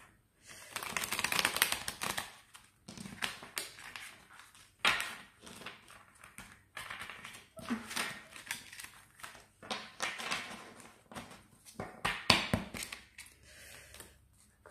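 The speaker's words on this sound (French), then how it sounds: "Je vais remélanger." A deck of playing cards is shuffled repeatedly at close range, with crisp riffling bursts and taps recurring in an irregular rhythm for the whole stretch, fairly quiet and with no talk over it.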